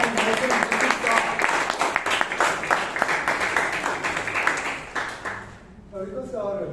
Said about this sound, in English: Give a round of applause once again